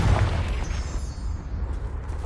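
A Confringo blasting spell explodes in Hogwarts Legacy with a loud, booming burst and crackling debris, then a rumbling tail that fades slowly over about two seconds, with no speech.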